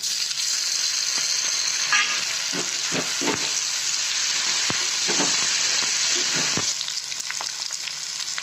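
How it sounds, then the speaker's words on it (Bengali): Fried onions sizzling in a pan as two slit green chillies and chopped tomato go in for a fish curry, a close, steady frying hiss broken by bursts of stirring. "পেঁয়াজগুলো ভাজা হয়ে গেছে। এবার এর মধ্যে দিয়ে দেবো দুটো চেরা কাঁচা লঙ্কা এবং একটা টমেটো কুচি।"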